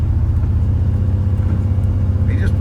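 A vehicle towing a camper drives along a road during a road test, with a loud, steady low rumble of engine and tyres filling the cabin and a faint voice briefly audible toward the end.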